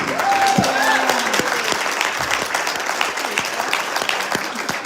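Conference audience gives a round of applause for Laura Clemens, steady dense clapping throughout, with some voices and whoops rising briefly over it near the start.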